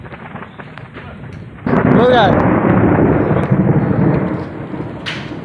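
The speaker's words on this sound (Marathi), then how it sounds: "हा बघा पत्र्यावरती आवाज जोरदार आवाज येतोय" Hailstones pound a corrugated metal sheet roof during an unseasonal March hailstorm in Konkan, a sudden loud, dense drumming roar that swells and holds steady, with someone talking over it.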